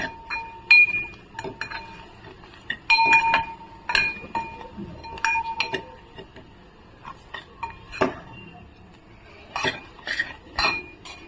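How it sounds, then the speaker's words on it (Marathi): Red chilli powder and turmeric being sautéed in a pan for a traditional Konkani horse gram flour dish. A spatula clinks and scrapes irregularly against the metal, with quiet gaps in between and no voices. "लाल तिखट, हळद, छान असं आहे ना परतून घेऊया मसाले।"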